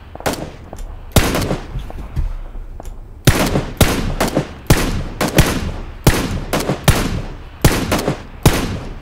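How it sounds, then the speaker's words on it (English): Gunfire in a multiplayer shooter video game, loud close bursts of rapid shots in repeated clusters separated by short pauses, with no speech over it. "my shooting is way off at the moment"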